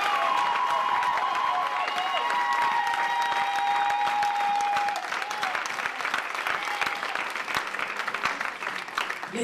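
A church congregation claps together in a sustained burst of applause that continues throughout and thins slightly toward the end, with sustained tones and a few voices mixed in underneath.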